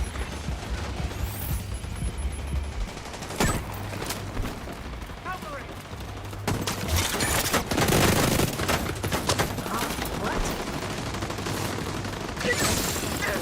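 An AI teammate fires on a hostile in The Division 2, with bursts of gunfire and sharp shot cracks over dense combat noise, loud and sustained across the stretch.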